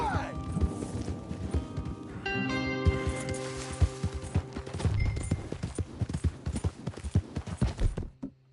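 Horses gallop in the Western video game Red Dead, a dense run of hoofbeats mixed with game music and voices talking over the action.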